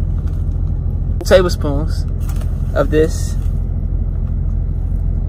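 A truck rolls along with a steady, low engine and road rumble that runs throughout, while a person talks over it close by.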